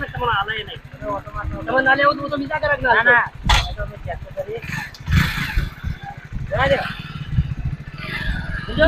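A motorcycle engine runs close by in a low, steady putter beneath loud, lively talk from several people, with a sharp knock partway through.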